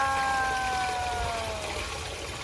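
Grey water from a camper van's sink and shower tank draining out, a steady close gush and trickle of running water with faint tonal whine, no voices.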